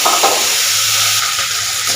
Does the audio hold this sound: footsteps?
no